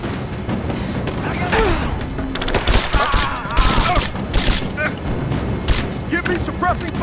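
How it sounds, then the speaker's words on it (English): Gunfire from a firefight in the Rise of the Tomb Raider video game, rapid bursts and shots crackling continuously under shouted combat voices, with booms and mechanical clatter mixed in. "Give me suppressing fire, now! I'm taking fire!"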